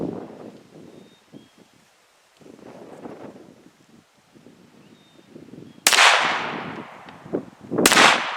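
Two sharp, loud shots from a 1911 pistol ring out a couple of seconds apart near the end, each with a bright crack and short echo, following quieter outdoor rustling and wind.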